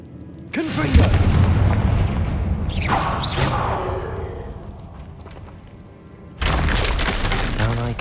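Confringo blasting spell in Hogwarts Legacy, a loud booming explosion bursting out with crackling debris and shattering, fading to rumble before a second heavy blast hits at the end.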